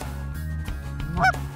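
Canada geese honking during a goose hunt in Saskatchewan, a steady loud flock chorus with one sharp nearby honk standing out, no talk.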